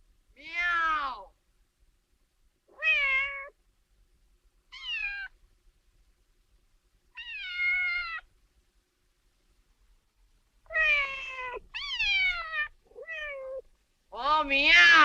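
A man imitates a cat's meow again and again, giving about eight separate drawn-out, rising-and-falling meows in irregular bursts with silent gaps between them, close and clear, with no other sound.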